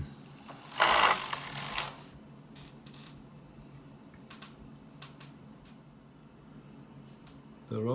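A domestic knitting machine carriage sweeps across a row of a baby sweater, with a loud rasping pass near the start followed by quieter mechanical clicks and creaks, then another pass at the end.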